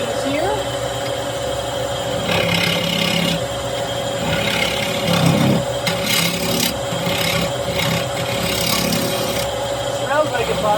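A cherry wood lid on a lathe being cleaned of epoxy shavings, a continuous loud rasping and scraping with shifting intensity, close up, with a steady machine drone underneath throughout.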